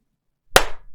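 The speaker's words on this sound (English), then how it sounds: "and clap." A single sharp hand clap rings out close and loud after a moment of silence, then decays quickly with no other sounds around it.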